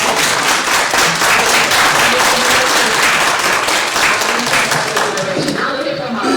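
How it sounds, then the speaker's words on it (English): Loud audience applause at a public talk on Montgomery and the Alabama voting rights struggle, dense clapping that carries evenly for several seconds before thinning out toward the end as a voice begins. "Let's give her a round of applause."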